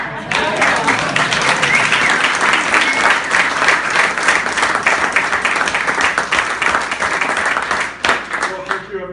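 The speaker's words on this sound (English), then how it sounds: "So, a round of applause for" Audience applause at a speech in Portland, a steady loud burst of clapping from a room of listeners that carries on for about eight seconds before tapering off at the end.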